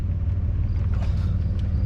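A 2000 Chevy Blazer idles in gear after a shifter linkage bushing repair, its engine a steady low rumble close by, with no voices over the brief stretch.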